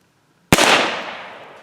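A single loud, close black powder shot from a CVA revolver cracks sharply after a moment of quiet, its smoky boom decaying slowly over the following second.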